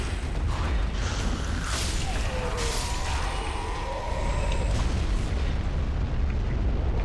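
Trap explosions in the video game Dark Souls 3 boom and burst in a dense, continuous roar, loud and sustained with layered rumbles and no talking.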